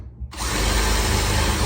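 A power drill starting a hole during a kitchen update kicks in abruptly after a brief quiet moment, then runs at a loud, steady whine close by.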